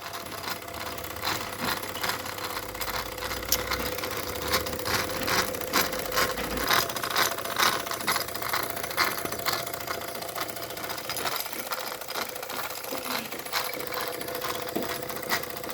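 A Wilesco D405 model steam engine runs steadily with a fast, even mechanical chuffing and clatter, moderately quiet and close, holding a constant rhythm for about sixteen seconds without talk.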